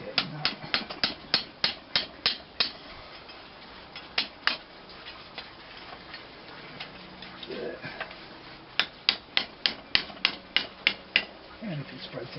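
A big hammer strikes metal while shaping a metal rose, giving sharp ringing blows in quick runs with short pauses between bursts.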